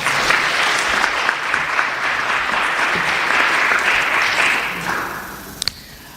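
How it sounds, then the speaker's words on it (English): A large audience applauds steadily, a dense wash of clapping that fades toward the end with a few last claps. "Let's give her a round of applause."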